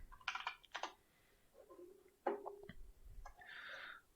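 Someone types on a computer keyboard in short irregular runs of crisp clicks, separated by brief gaps and a few heavier key presses, close-miked and quiet.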